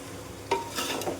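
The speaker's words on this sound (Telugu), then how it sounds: "ఇవంతా బాగా మిక్స్ అయ్యేటట్టు అయితే కలుపుకోవాలి" Chopped pieces being stirred in a pan after a teaspoon of salt is added, a faint, brief scraping and soft sizzle with a couple of quick stirring strokes.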